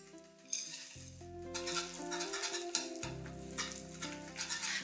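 A melted, boiled mixture of ground biscuits and unsalted peanuts is stirred in a pot. Soft scraping and sizzling continue at a fairly quiet level, with occasional sharper clinks from the spoon against the pot.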